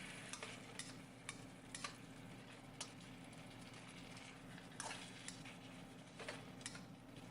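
Pork slivers and broccoli stir-fried in a pan sizzle softly and steadily, with repeated scraping and tossing clatters from a utensil punctuating the frying at irregular intervals.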